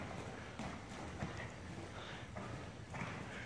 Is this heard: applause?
no